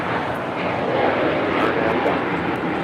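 Airliner taking off from runway 25 right at Los Angeles International Airport, a steady, loud broadband jet roar that holds constant throughout with no voices.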